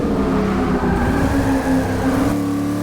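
A stock V8 Camaro roars around Circuit of the Americas in a racing game, its engine holding a loud, steady drone with shifting pitch as it accelerates, close and continuous with no talk.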